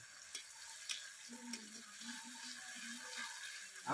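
Whole cumin, a dried chili and bay leaf frying in hot oil, giving a soft, close sizzle with light stirring clicks and crackles, fairly quiet and without speech.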